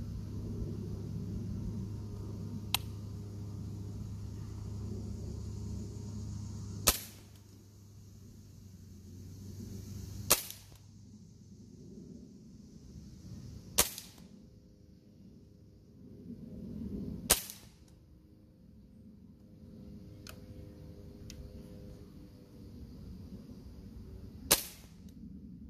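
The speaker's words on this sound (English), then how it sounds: "here goes the first 5-shot group with the single" A Beretta CX4 Storm air rifle powered by a single 12-gram CO2 cartridge fires a 5-shot group, sharp cracks spaced several seconds apart over a faint background hum.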